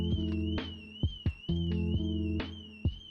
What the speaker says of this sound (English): We got an alarm going off in the parking lot.